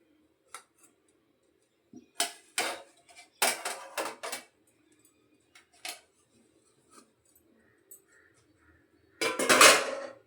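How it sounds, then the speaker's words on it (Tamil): Cooked semolina puttu is scooped onto a plate with a metal utensil, producing sparse clinks and scrapes against cookware in short bursts, with a louder rattling clatter near the end amid quiet pauses. "நம்ம இப்படி ஒரு பிளேட்டுக்கு மாற்றிடலாம்."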